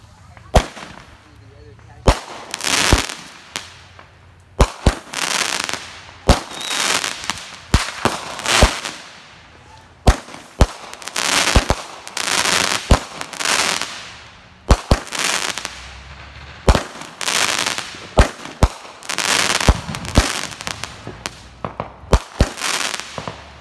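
A Winda Smoke Dragon 16-shot 200g firework cake fires in quick bursts of sharp, loud launches and bangs, about a dozen in a steady rhythm, each with a crackling tail, heard outdoors at close range.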